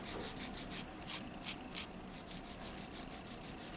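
Sandpaper rubbed straight across a resin jewel art piece in quick, regular back-and-forth strokes, a close, soft scratchy rasp repeating about a dozen times.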